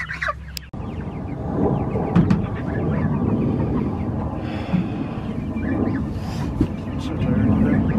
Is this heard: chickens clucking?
yes